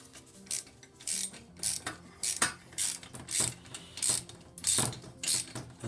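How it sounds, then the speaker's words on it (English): A ratchet wrench clicks in repeated bursts while turning a tight, stuck bolt on a Yamaha Virago XV535 motorcycle, each pull giving a quick run of close, crisp pawl clicks with short pauses between strokes. "Can I get the ratchet in there?"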